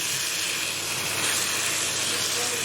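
Chicken karahi sizzles steadily in a hot pan while being stirred, a continuous bright hiss with no clear breaks and no talking.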